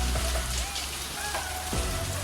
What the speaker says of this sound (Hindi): आखिरकार शाम को बारिश हो गई और हवा चलने लगी